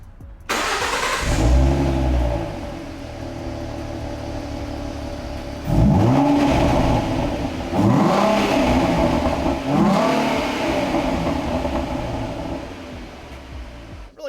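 A stock-exhaust 2013 Ford Mustang V6 convertible starts up and idles loudly, then gives several sharp revs that rise and fall before settling back to a steady idle, heard up close with no talk.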